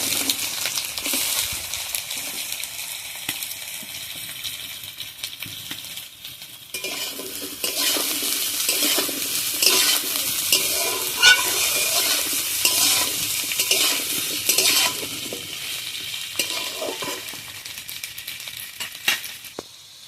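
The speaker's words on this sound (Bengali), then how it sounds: "দিয়ে পেঁয়াজ আর আলু একসাথে ভেজে নেবো।" Chopped onion, green chilli and potato fry in hot oil, a steady sizzle running throughout while a spatula scrapes and clinks against the pan in repeated strokes, close up and without talk.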